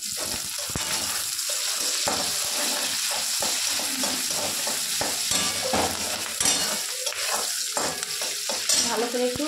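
Green chili and vegetables fry in spiced oil with onion and garlic, a steady close sizzle running throughout, broken by repeated stirring scrapes and clinks of a utensil against the pan.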